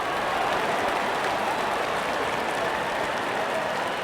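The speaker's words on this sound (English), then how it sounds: "And there comes the celebration and the crowd loves it." A cricket crowd cheers and applauds a wicket celebration, a dense, steady wash of clapping and roaring voices filling the stadium without a break.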